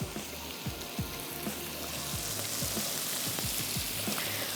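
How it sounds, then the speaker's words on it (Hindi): Carrots, turnips, tinda and zucchini fry in a pan with a soft, even sizzle and faint crackle, a steady hiss throughout with no talking. "हमने इसमें ऐड किया था शलजम, टिंडे और ज़ुकीनी, इन तमाम चीज़ों को हम फ्राई कर रहे हैं"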